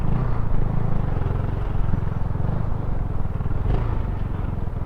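A Zontes 310V motorcycle rides through traffic, its engine droning steadily with a low, pulsing throb and road rumble, close and constant throughout.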